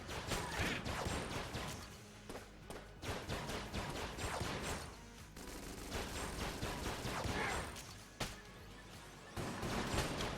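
Flash Ray weapon firing in the video game Enter the Gungeon: a dense, continuous barrage of rapid crackling shots and impacts, loud and steady throughout, with brief dips in intensity and no talk.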